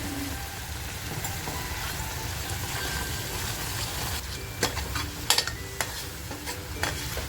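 Masala sautéing in oil for an egg masala curry, a steady soft sizzle and fry with scraping stirs and a few sharp clinks of a spoon against the pan toward the end, close by with no talking.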